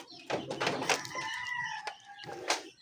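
Chickens kept behind a fence in a backyard with ducks, clucking and calling in short bursts, close and fairly loud, with a drawn-out crow-like call in the middle.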